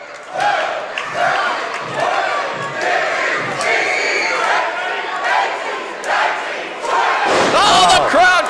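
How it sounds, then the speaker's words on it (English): A wrestling crowd chants in unison, counting along while a wrestler holds an opponent up in a long vertical suplex. The loud, rhythmic group shouts swell toward the end. "Oh, the crowd counting along"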